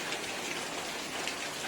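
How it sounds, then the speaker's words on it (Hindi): Heavy rain pours down in Bolangir, a loud, dense and continuous hiss of drops hitting surfaces close by, steady throughout with no voices. "बड़ा वर्षा है"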